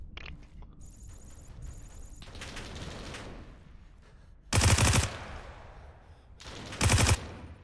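Two short bursts of loud automatic gunfire from a weapon in the video game Roblox, the second slightly shorter, each rising sharply over a lower background of game sounds and clicks.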